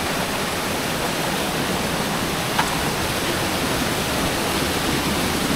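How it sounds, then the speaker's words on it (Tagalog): Waterfall in a forest, water striking hard below: a dense, unbroken roar of falling water, loud and close, steady throughout with no other sounds standing out. "Lakas ng impact ng tubig."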